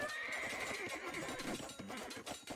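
Horses neighing in Age of Empires 2 amid a dense, constant battle din of clashing units, the whinny rising above a loud continuous wash of noise.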